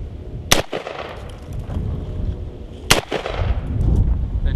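Two sharp gunshots ring out a couple of seconds apart, fired at a bullet-resistant armor plate. Each crack is loud and close, followed by a rumbling outdoor echo and low wind noise.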